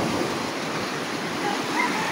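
Rough sea waves roll and surge at a fishing shore. The wash is dense and constant, and the roaring water and wind-like noise have no clear breaks. No one speaks.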